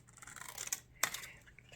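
Scissors cut through a sheet of shrink plastic before baking, with a few crisp snips and scratchy slicing and one sharper cut partway through, close up in a quiet room.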